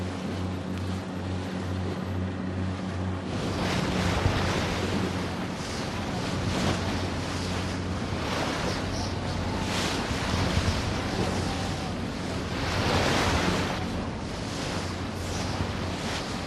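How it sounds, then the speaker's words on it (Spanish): A classic Patagonian storm lashes a mountain channel, with steady roaring wind and crashing waves as a dense, continuous wash of noise that swells slightly at moments, with no voices. "Una de las clásicas tormentas patagónicas azota el Canal de las Montañas."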